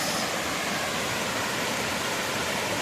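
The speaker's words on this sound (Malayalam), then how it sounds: "ഒരു വെള്ളച്ചാട്ടം കേട്ടോ ഇങ്ങനെ വരുന്നതാണ്" A waterfall pours inside a cave, a dense, steady rush of falling water filling the space evenly and continuously, close and loud, with no voices over it.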